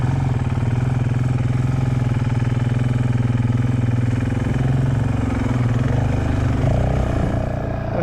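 Honda CRF450X dirt bike engine at a motorsports park, running loud and steady throughout with a continuous low throttle drone that holds near and even, shifting slightly toward the end.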